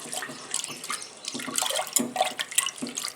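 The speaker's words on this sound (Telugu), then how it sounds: "శుభ్రంగా 2 సార్లు కడిగేసుకోవాలి" Toor dal is washed in water, with close splashing, sloshing and swishing in irregular bursts and no talking.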